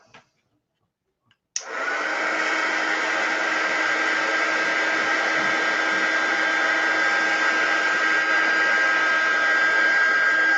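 Hair dryer switched on with a click to dry a paper collage, then a loud steady whirring blow that runs on unchanged, close by.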